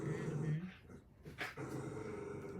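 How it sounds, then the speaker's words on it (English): A dog tied on a rope growls low and lets out whimpering, whining sounds at close range, with a short yelp in the middle and the growling resuming afterward. "you hear my dog? He's like on this rope."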